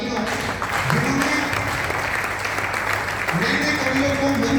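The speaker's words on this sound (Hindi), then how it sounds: "मैं चाहता हूँ इस जोड़ी के लिए भी एक बार जोरदार तालियां हो" Audience at a Hindi kavi sammelan poetry gathering claps in a steady, dense wash of applause that fills the whole stretch, with a voice speaking over it.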